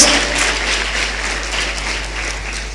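Church congregation at a Christian service gives loud applause, a continuous dense rush of clapping from many people, with a steady low electrical hum underneath.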